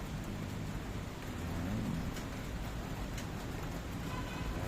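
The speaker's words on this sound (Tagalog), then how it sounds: "Lakas pa rin po ang ulan dito sa amin." Heavy rain pours down during a windy nighttime storm, a dense, constant hiss and patter with low rumbling underneath, heard from close by and steady throughout.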